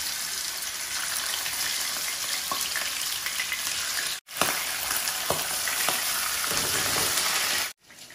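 Fish frying in a pan on a home stove gives a loud, dense, steady hiss and crackle, broken twice by brief silent gaps.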